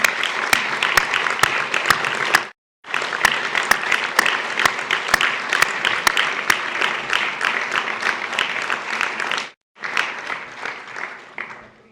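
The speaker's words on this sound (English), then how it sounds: "offering a round of applause to family and friends" A hall full of people at the MRCP(UK) admission ceremony at the Royal College of Physicians of Edinburgh applauds family and friends, loud sustained clapping broken by two very short pauses before resuming.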